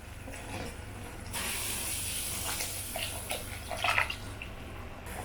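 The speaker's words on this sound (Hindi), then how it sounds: "1 गिलास उबलते हुए पानी इसमें डाल देंगे ताकि 5 मिनट तक वो पानी चल सके।" Boiling water poured into thick sugar syrup while cooking rasgulla, giving a steady close hiss and splash that rises suddenly and runs on for several seconds with small bubbling spurts.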